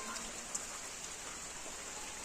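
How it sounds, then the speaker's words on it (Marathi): Light rain keeps falling steadily after a heavy downpour at a village home, a soft continuous patter of drops on surfaces with a few sharper close drips. "पाऊस आता कमी झालाय."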